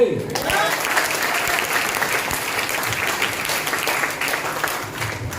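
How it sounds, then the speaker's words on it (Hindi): Seminar audience in a hall breaking into loud, sustained applause, dense clapping from a large crowd that carries on steadily before easing slightly at the end. "तालियां बजा दीजिए"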